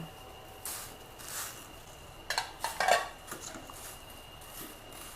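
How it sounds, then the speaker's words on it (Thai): Mushrooms go into a pot of tom yum soup with chicken. There are soft, sporadic clinks and scrapes of a utensil against the pot, then a few louder clattering knocks over a quiet background. "ใส่เห็ดลงไปเลยค่ะ เห็ดสองอย่าง"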